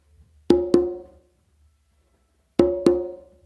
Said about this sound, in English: what you're going to do is 2 opens on the conga.